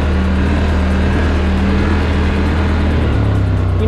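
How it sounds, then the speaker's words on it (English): A 2020 Polaris Scrambler XP 1000S ATV engine drones loud and close at high RPM while riding around 20 miles an hour, a steady sustained hum whose pitch shifts slightly near the end. "obviously the engine's at a much higher RPM, and I'm only going 20 miles an hour"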